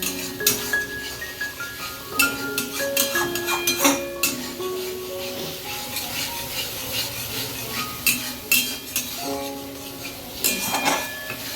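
Prawns stir-fried in mustard oil in a pan for a Bengali shorshe chingri, with a spatula scraping and rubbing against the metal in irregular strokes, occasional clinks, close up, with faint background music.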